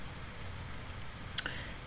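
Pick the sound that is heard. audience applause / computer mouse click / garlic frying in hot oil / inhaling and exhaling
computer mouse click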